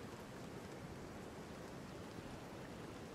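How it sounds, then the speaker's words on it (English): Steady rain falling in a park in the video game Jurassic World Evolution 2, a continuous even hiss of drops on surfaces with no breaks, moderately faint and heard alone. "You could just kind of hang out in the rain."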